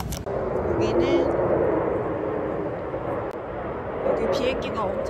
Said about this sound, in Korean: 여기 비행기가 엄청